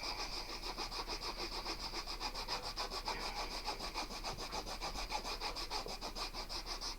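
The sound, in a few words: sanding by hand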